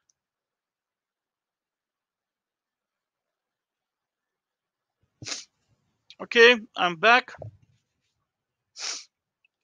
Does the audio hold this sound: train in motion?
no